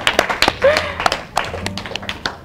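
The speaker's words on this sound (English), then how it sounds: "keep clapping for her" A small studio audience at a cooking competition claps for a chef in loose, irregular bursts of sharp, near hand claps, with some talking between them.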